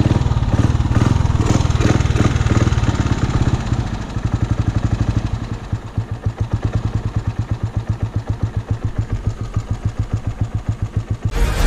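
A kick-started motorcycle engine settling into a steady idle, loud and close, its rapid even firing pulses clattering alone with no voices.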